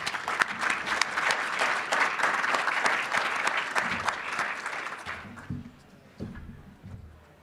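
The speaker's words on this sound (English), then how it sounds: "join me in a round of applause as they come on stage" Conference audience applause as speakers take the stage, a sustained round of many hands clapping that thins and fades after about five seconds, with a few scattered claps and soft room noise.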